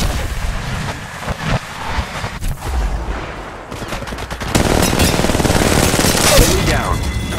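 Gunfire in the Apex Legends video game: scattered sharp shots and short bursts at first, then a sustained stretch of loud, rapid automatic fire.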